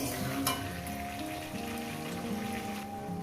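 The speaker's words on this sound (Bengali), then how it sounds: "তিন মিনিটই কষবো কিন্তু কষার মধ্যে আমি টমেটোটা দিয়ে দিলাম" Tomato sautéing with a catla fish head in a pan, a steady moderate crackling sizzle with soft stirring, heard alone without talk.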